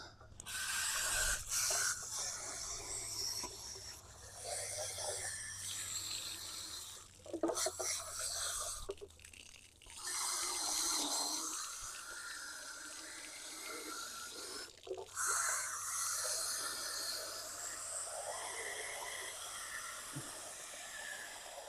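Water spraying from a hose to wash out sand from a Bestway pool filter, a loud hissing gush that runs steadily with several brief breaks and shifts in pressure.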